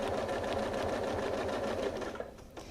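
A sewing machine quilts a quilt guided along a ruler, its fast steady needle stroke humming close and loud for a few seconds before slowing and stopping near the end, with no voices.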